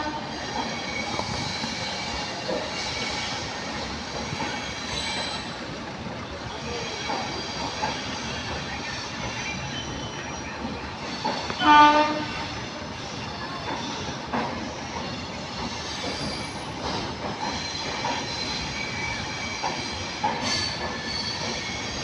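Jan Shatabdi Express 12084, Coimbatore to Mayiladuthurai, pulling away with a continuous loud rumble of wheels and coaches on the rails, squealing metal and a brief louder clank midway, heard up close throughout.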